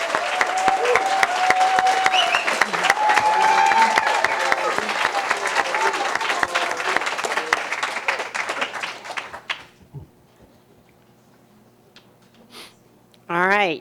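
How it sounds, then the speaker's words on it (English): Audience applause for candidates at a 2022 election candidates forum for House Districts 61, 63 and 92, loud dense clapping for about nine seconds that fades out, followed by quiet room sounds and a brief burst of noise at the end. "let's give a big round of applause to all of our candidates"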